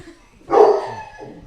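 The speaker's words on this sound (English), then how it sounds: "My roommate's dog is now in." A roommate's dog in a home gives one loud, close bark followed by a quieter trailing yelp, with near silence before it and no talk.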